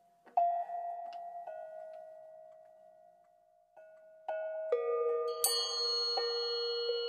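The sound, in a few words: tuned bells played together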